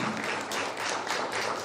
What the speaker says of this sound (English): A round of applause for Fiona, please.